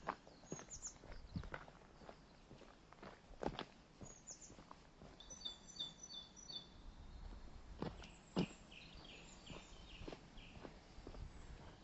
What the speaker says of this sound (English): Chaffinch aloft there somewhere, singing away, skylark to my left, joy of joys.